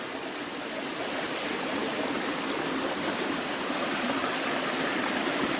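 A mountain river stream along a jungle trekking route rushes and splashes, a loud, steady broadband roar of flowing water close by with no talking.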